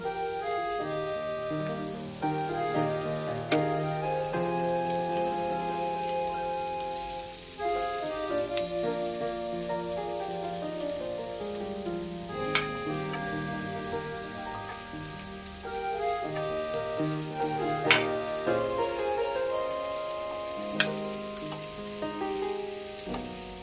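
Egg fried rice sizzles and crackles steadily as the rice goes into a hot pan and is stirred, with tonal background music running throughout and a few sharp clicks from the utensils.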